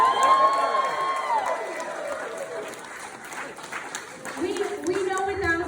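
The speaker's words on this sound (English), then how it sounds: "I'd love to start with a big round of applause to the mothers of the bride and groom" Wedding guests at a reception clap and cheer for the mothers of the bride and groom, a lively crowd sound with shouts and voices mixed into the applause.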